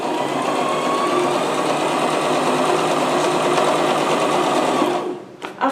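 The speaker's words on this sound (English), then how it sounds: "So I'm sewing this edge now." Sewing machine stitching along the edge of Ankara fabric for an auto gele, running as a loud, steady, close whir for about five seconds before it stops with a short clunk.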